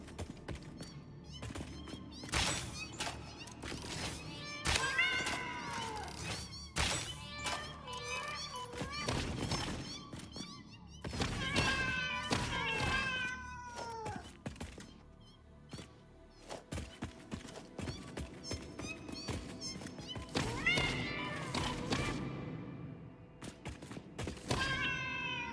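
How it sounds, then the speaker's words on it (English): Cats meow repeatedly in a factory-building video game, their rising and falling cries coming in bursts over a busy bed of game noise and clattering thuds. "The cats are back."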